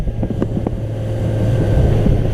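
A 2004 Sea Hunt 200 Escape boat running at about 34 mph with trim all the way down, a loud, steady engine drone mixed with rushing wind buffeting the microphone and water slapping against the hull.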